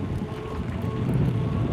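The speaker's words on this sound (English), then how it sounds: "Oh, so windy." Strong wind gusts buffet a microphone outdoors on the National Mall in Washington DC, a continuous low rumbling roar with no voices heard.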